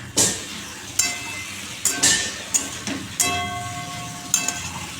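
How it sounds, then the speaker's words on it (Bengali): Potatoes with green chillies frying in a pan, with soft background sizzle broken by sharp clanks and scrapes of stirring, close and intermittent, with no talking. "দেখো আলু ভাজাটা বসিয়ে দিলাম"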